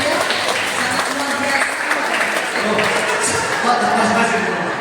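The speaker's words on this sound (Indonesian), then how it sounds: "Mari kita beri tepuk tangan ya" Sustained applause from an audience at a Catholic talk, dense clapping with voices mixed in and some talking underneath.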